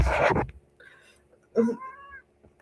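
A cat gives a couple of short meows, close and fairly clear, after a burst of louder noise at the start, with quiet room sound between calls.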